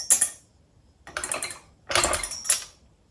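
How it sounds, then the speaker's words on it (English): A metal nut dropped down inside a floor jack, giving several short bursts of clattering and rattling metal nearby, separated by brief quiet gaps. "What I'm going to do is drop this nut down in here."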